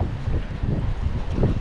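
Strong storm wind buffets a small anchored boat that is dragging its anchor, a loud, steady low roar with gusty pulses and mic buffeting throughout, no voices.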